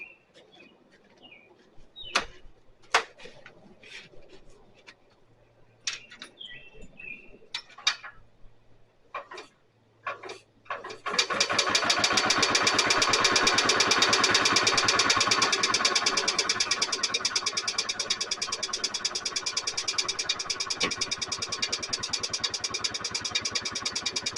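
An EZ GO 2-cycle golf cart engine with a dump bed, left sitting under a cover for about a year, cranks repeatedly without starting: a few short bursts, then a loud, continuous rhythmic churning that runs on steadily up close.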